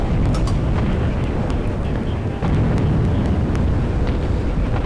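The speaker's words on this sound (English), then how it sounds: "And it's lots of explosions." Continuous heavy rumbling blasts, loud and booming with crackly bursts layered on top, like a steady barrage of game explosions.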